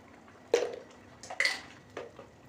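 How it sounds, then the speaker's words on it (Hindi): A spoon scrapes and knocks against a pot while degi yakhni pulao is stirred, giving a few separate metallic clinks and scrapes, close and moderately loud. "चम्मच से अच्छी तरह मिक्स कर दें।"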